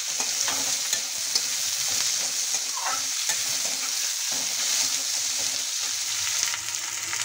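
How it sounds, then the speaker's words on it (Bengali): Chopped onion frying in oil gives a loud, steady crackling sizzle throughout, with occasional stirring scrapes close by. "দিয়ে দিচ্ছি পেঁয়াজ কুচি, ভেজে নেব।"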